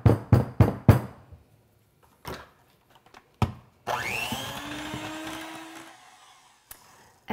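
Lavender whipped body butter gets mixed: a few sharp knocks and taps, then an electric mixer whirs up with a rising whine for about two seconds before winding down, close and alone.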